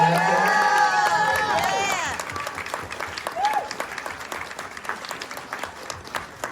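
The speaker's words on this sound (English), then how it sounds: "Everybody give her a round of applause." An audience cheers and applauds at a film Q&A after a trailer screening, with whoops and shouts over loud clapping at first, then the clapping continues more thinly and tapers off.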